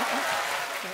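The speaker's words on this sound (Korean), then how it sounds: "박수 한 번만 주세요" Studio audience applause at a Korean comedy stage show, a steady dense wash of clapping held for the whole second, loud and close, thinning slightly toward the end.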